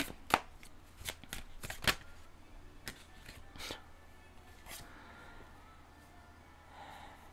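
Tarot cards shuffled and drawn by hand, a run of crisp snapping riffles and flicks in the first few seconds, then quieter handling with soft breathing.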